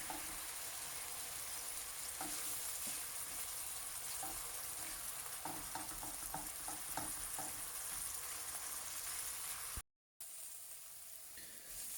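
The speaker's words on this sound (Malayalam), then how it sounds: "ഇത് നന്നായി ഒന്ന് വഴറ്റിയെടുക്കാം." A duck roast sauce sizzles and fries steadily in hot oil, with soft scrapes and taps of a spoon stirring through it, close and continuous until a brief silent gap near the end before the sizzle returns.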